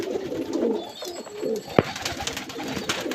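Soft, rolling coos from pigeons nearby, with a sharp click partway through and faint shuffling after.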